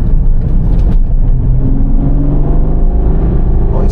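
Ferrari Purosangue V12 heard from inside the cabin with the windows closed on a winding road, a steady loud engine drone with a slowly rising tone throughout and no talking.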